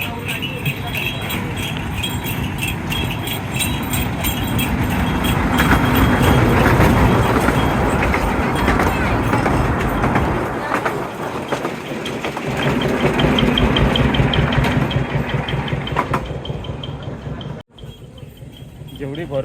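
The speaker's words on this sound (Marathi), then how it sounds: "ही बघा विराट लोकल आली." A crowded Virar local train pulls into a busy Mumbai station, Dadar, with a loud, sustained rumble of wheels and carriages that swells as it arrives, and a crowd of voices mixed underneath.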